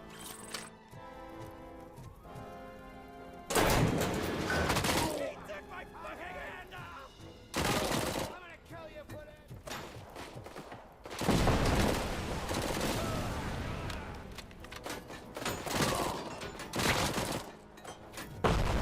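Video game gunfire in Robocop: Rogue City, including shotgun blasts, comes as loud, dense bursts separated by quieter stretches of background combat noise across the span.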